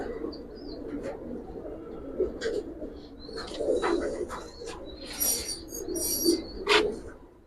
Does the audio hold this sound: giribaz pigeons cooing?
yes